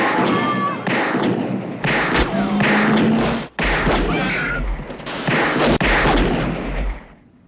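Heavy .44 Magnum handgun shots from the Dirty Harry films ring out as a sharp series of loud booming blasts with echoing tails, separated by brief gaps, with some voice between shots.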